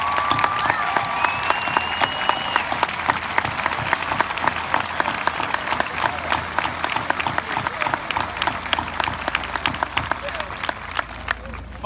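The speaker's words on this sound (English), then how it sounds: "We also ask a big round of applause for all of our veterans that are in attendance" A graduation audience giving a big round of applause for veterans in attendance, a dense, steady clapping from a large crowd lasting the whole stretch, heard at some distance.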